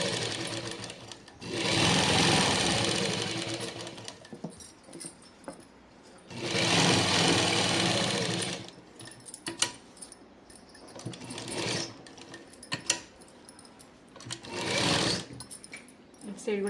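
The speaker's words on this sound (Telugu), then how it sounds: "ఇటు సైడ్ ఒక కుట్టు ఇటు సైడ్ ఒక కుట్టు వేసుకోవాలి" A sewing machine stitches seams on a Punjabi dress in several separate bursts of rapid whirring, fairly close, with someone talking during the pauses.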